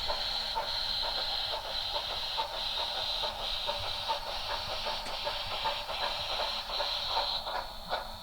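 Model train running on a powered track indoors, a steady hissing, rattling rumble with faint rhythmic clicks that carries on evenly throughout, no speech.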